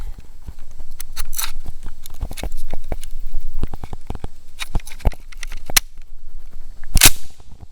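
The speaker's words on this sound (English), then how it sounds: "Let's get this thing loaded up." M1 Garand rifle being loaded, a run of sharp metallic clicks and clacks of handling with a loud final snap near the end, close and with no talk.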